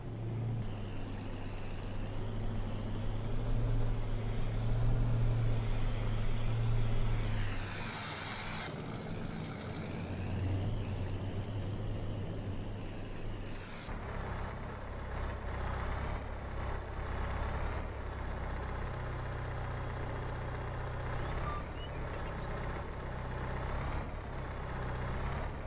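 Heavy truck engine in Farming Simulator 22 tailgating a load of gravel, a loud low rumble that swells for the first half and then settles into a steadier, softer drone with gritty texture.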